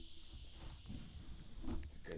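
Fizzing hiss of a freshly opened Watermelon Crush soda, a faint, short crackling sizzle with a few brief louder pops near the end.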